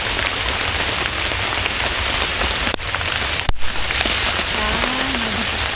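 Pouring rain falls steadily during a hike, a dense, loud hiss of drops drumming on surfaces that stays constant throughout with no talk, broken only by a couple of brief sharp taps.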